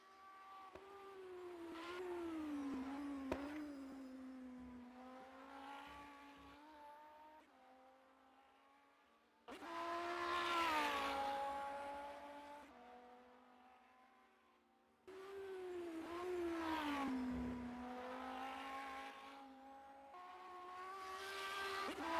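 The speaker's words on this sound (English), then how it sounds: "you can hear the P1 car closing in on Morissette" Race cars in an rFactor 2 simulation of the 24 Hours of Le Mans, with a P1 prototype and GT cars, scream past in three separate waves. Each engine note rises and falls through gear changes, with quiet gaps between passes.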